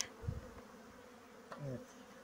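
Honeybees buzz around an open hive while it is being prepared for the season, a steady low drone with a few individual bees passing close and fading.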